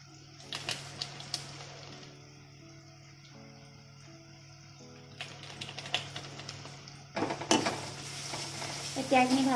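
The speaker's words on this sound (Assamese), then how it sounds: "এতিয়া এইখিনি ভালকৈ লৰাই দিছোঁ" Tomatoes and spices for Maggi noodles being stirred in a pan, with soft scraping and clatter over a steady low hum, louder bursts of stirring and sizzle near the end.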